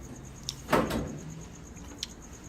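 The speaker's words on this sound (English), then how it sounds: "I slid the door onto the body." A dryer door slides onto the metal body of a Kenmore Elite dryer during a repair, making one scraping slide with a soft clunk, followed by faint light clicks.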